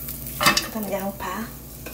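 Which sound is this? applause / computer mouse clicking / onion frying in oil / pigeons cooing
onion frying in oil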